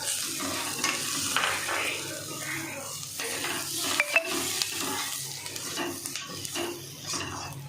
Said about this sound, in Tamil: இப்போ தக்காளி கொட்டிடலாம்.